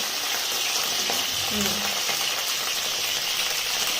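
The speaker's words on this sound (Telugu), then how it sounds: "ఫస్ట్ ఇవి వేయించుకోవాలి" Vegetables sizzle steadily in about two tablespoons of hot oil in a pan as they fry for stuffed brinjal curry, with a constant close crackle and a few light stirring clinks.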